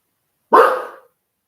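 Dogs indoors at home let out a single loud, sharp bark that fades quickly, alone with no voices.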